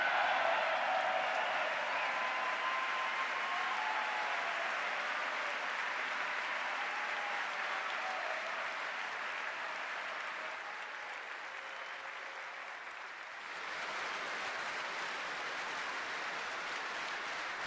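A large audience in the US Congress applauds Benjamin Netanyahu's speech with sustained dense clapping, steady and loud, dipping slightly before swelling again toward the end.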